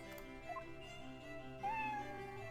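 A cat in Professor Layton vs Phoenix Wright gives a few quiet meows, including a short one and then a longer, rising cry, over soft game music.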